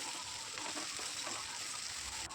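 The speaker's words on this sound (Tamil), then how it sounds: "நறுக்கி வச்சுருக்க வெங்காயத்தையும் போட்டு நல்லா வதக்கிக்கலாம்" Steady crackling sizzle of chopped onions sautéing in hot oil, close and continuous, with faint stirring scrapes and no voices.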